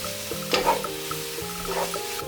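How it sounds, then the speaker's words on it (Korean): Scrambled egg with vegetables and meat stir-frying in hot oil gives a brief, close sizzle with quick spatula scrapes and stirring taps over a few seconds. "달걀을 넣어 바로 휘저어주면서 스크램블을 만들어줍니다. 그 후 재료와 섞어 살짝 볶아주세요."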